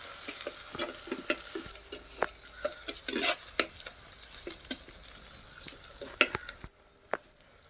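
Crushed ginger and garlic stirred in a pan for Tamil-style prawn curry with country vegetables, a spoon scraping and stirring with soft sizzling, close and steady with repeated clinks, no talk.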